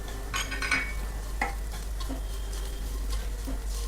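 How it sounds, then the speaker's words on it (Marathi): Coconut frying in a pan with ginger-garlic paste and onion, stirred with a spoon. Soft scraping strokes and light sizzling sound close by over a low steady hum. "आपल्याला आता ह्यामध्ये खोबरं छान असंच परतून घ्यायचं"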